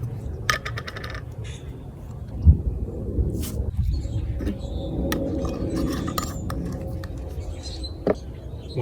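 A little spoon scoops yeast into an empty cup, making scattered bright clinks and taps against the cup over a low background hum, with one louder knock midway.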